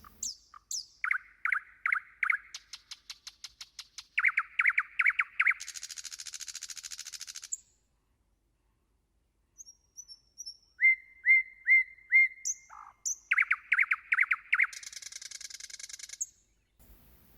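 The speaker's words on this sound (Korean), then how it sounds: "이 작은 새가 얼마나 아름다운 소리를 내는지 궁금하지 않으신가요?" A small nightingale sings alone in clear, repeated phrases: quick whistled trills, rapid chirping runs and sustained buzzy notes, separated by a long silent pause before the song resumes.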